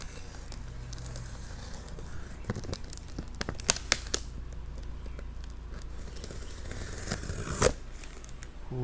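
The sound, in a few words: cutting open the packaging of an RC car box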